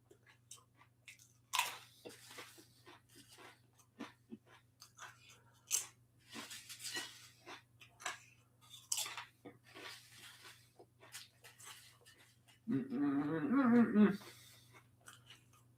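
Doritos chips being bitten and chewed close up, a run of sharp, irregular crunches with quiet gaps between them, over a low steady hum and a brief burst of voice near the end.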